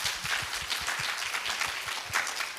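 Audience applause at a prayer seminar in Fukuoka, steady dense clapping from a crowd filling the whole moment, moderately loud with no talk over it.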